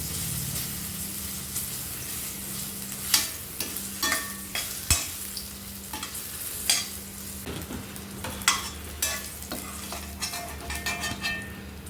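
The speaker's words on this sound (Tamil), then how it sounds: "இப்போ புளி போட்டு நல்லா வறுத்துக்கலாம்" Tamarind frying in a pan for pirandai thuvayal, with a steady sizzle under repeated scraping stirs of a spoon against the pan, sharp clicks and knocks scattered irregularly throughout, close and fairly loud.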